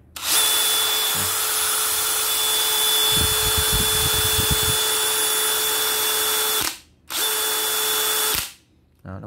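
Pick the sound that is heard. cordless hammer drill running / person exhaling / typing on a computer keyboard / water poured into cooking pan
cordless hammer drill running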